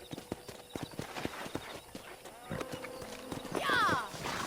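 In the Red Dead Redemption video game, a horse's hooves clip-clop in a quick steady rhythm on the ground, and the horse whinnies loudly near the end while a voice talks faintly under it.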